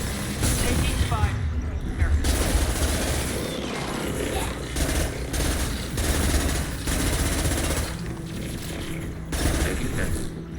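Gunfire in the video game Mass Effect 2: Legendary Edition, dense and continuous bursts of shots and impacts filling the scene, with voices talking over the combat.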